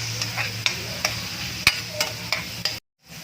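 Garlic and onion sauté in margarine in a pan, a steady close sizzle broken by regular sharp scrapes and clinks of a utensil stirring, ending in sudden silence; no one speaks.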